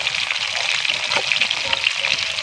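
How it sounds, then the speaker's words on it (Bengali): Hilsa fish pieces frying in oil in a pan, a loud, dense, continuous crackling sizzle close up with no talk. "মাছগুলোকে আমি উল্টে দিয়েছি এবার অন্য দিকটাও কিন্তু হালকা করে ভেজে নেব"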